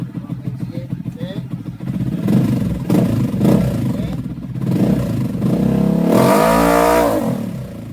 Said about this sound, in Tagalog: tumalon yung ating motor kasi inabot niya yung mating ng dyno